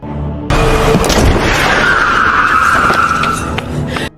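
Car tires skidding as a car runs a man over, a loud, close screech that bursts in abruptly and holds a sustained squeal before easing off at the end.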